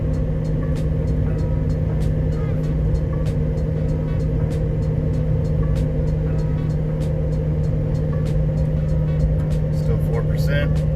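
A vehicle on cruise control at 68 mph climbing a 4% grade hill, with a steady loud engine and road drone throughout and an automatic downshift along the way.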